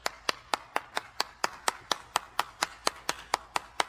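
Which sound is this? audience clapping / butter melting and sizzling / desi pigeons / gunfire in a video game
audience clapping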